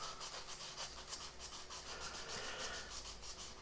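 Fine 800-grit sandpaper rubs steadily across a plastic model tank kit, a continuous close scratchy swish with rapid back-and-forth strokes and no talking.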